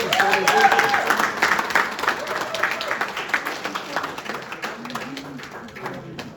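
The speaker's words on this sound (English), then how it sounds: "Let's give her a big round of applause" An audience applauds steadily, a dense patter of clapping that slowly fades, with voices calling and talking underneath.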